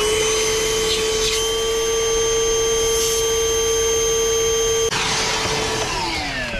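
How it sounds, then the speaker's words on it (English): A steady, loud vacuum motor drones with a high whine while clearing the outdoor condensate drain of a Fujitsu mini split with a Supco Porta-Blaster, shifting pitch near the end as suction changes; no talking. "Clean the condensate drain outside with the vacuum"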